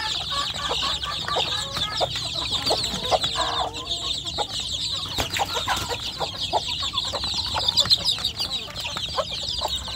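Free-range village chicks cheep and cluck busily and continuously at close range while pecking at dry feed, a dense chorus of high chirps with soft pecking and clicking sounds among them.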